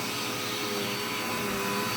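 A household vacuum cleaner with poor filtration runs steadily and loudly, a continuous broadband whoosh with no breaks or talk.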